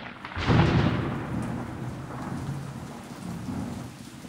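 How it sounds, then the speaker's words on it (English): A rain and thunder sound effect in a children's story reading: a loud rumble of thunder rolls in over steady heavy rain, continuing as a broad, enveloping wash without any voices. "Suddenly it began to rain."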